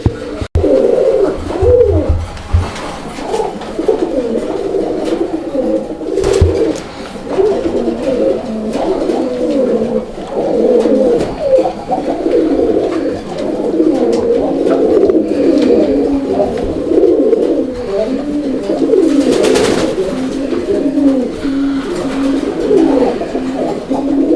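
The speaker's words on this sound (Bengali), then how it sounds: "অনেক ডাকের একটা কবুতর" Continuous low cooing from several pigeons close by, overlapping calls forming a steady, throaty murmur.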